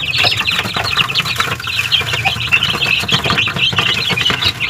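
About ten-day-old chicks in a coop under a warming lamp keep up dense, continuous high peeping, loud and close, with faint rustling beneath.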